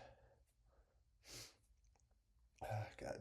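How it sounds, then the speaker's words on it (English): A man performs a cartoonish, exaggerated sneeze: a sharp, close burst following quiet breathy build-up and snorts, then a loud vocal outburst at the end. "If you want to sneeze, sneeze."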